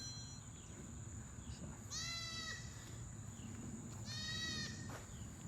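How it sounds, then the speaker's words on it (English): Two bleats from a goat beside a farm fence line, each about half a second long and a couple of seconds apart, heard over a steady low rumble of background noise. "Look at that goat."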